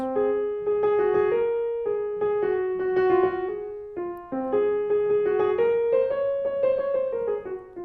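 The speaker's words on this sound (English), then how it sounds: "So in Phrygian, it would sound like this." A solo instrument plays a stepwise melody in the Phrygian mode with a dark, exotic flavor, phrased in two similar runs separated by a brief pause.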